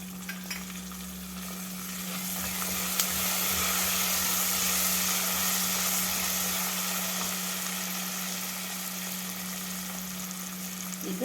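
Chopped green chillies and curry leaves fry in oil with a loud, continuous sizzle that swells and holds steady, alone without talk, over a constant low electrical hum.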